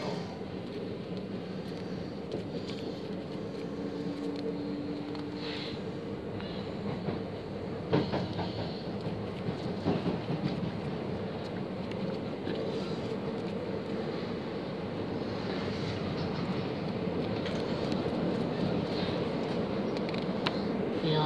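A freight train rolls along the rails at steady volume, a continuous rumble with rhythmic wheel clatter running throughout, a few sharper knocks near the middle.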